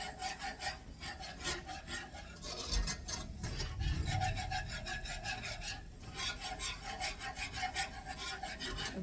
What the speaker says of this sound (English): Why do I keep whisking? Make sure it doesn't lump and it doesn't burn.